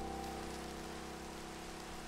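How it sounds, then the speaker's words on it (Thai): Steady rain hisses across the whole stretch in GTA, a dense, even wash of falling water with a faint low rumble beneath and no voices. "ฝนตกแล้วเนี่ย"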